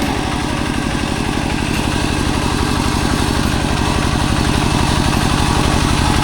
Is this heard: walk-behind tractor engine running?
yes